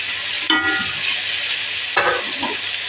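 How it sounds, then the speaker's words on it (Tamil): Mushroom biryani masala stirred in a hot pan, with a steady sizzle throughout and two distinct scraping strokes of the spoon about a second and a half apart, close and fairly loud. "இப்போ இதை நல்லா மிக்ஸ் பண்ணிக்கலாம்"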